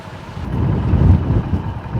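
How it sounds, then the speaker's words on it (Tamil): Gusty wind blowing across an open coastal area before rain, a steady broad rushing roar that swells and eases, close and fairly loud, with no voices. "மழை வரப்போகுதுண்ணா, குளிர் காற்று அடிக்குதா"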